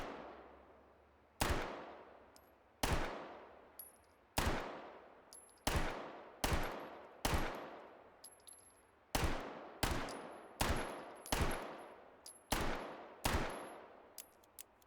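Shots from a Dardick 1500, a 1950s gun, fired in Hot Dogs, Horseshoes and Hand Grenades: about a dozen sharp, loud single reports spaced roughly a second apart, each ringing off briefly before the next.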